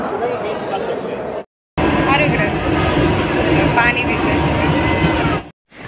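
A Mumbai local train at Kalyan station gives a loud, continuous rumble and rattle with metallic squeals, broken by two short gaps, while people's voices carry through the busy platform noise.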